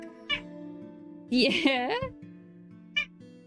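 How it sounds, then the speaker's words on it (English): A house cat just woken from a nap lets out a drawn-out, talkative meow, with short chirps before and after it. Someone speaks quietly nearby. "Oh, it's a cat treat's coming. Very talkative when you wake up from a nap."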